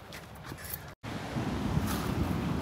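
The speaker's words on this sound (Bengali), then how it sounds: "এই যে এতটা হাওয়া দিচ্ছে," Wind blowing at a beach buffets the microphone in a steady rushing roar with faint surf beneath, briefly cut off by a short gap, then returning stronger and close.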